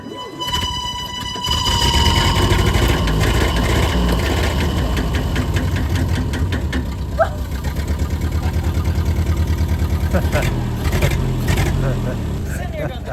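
A Ford Model A engine runs steadily and loudly with a rough, knocking idle-like rhythm. It stays close throughout, with faint voices and some clatter underneath.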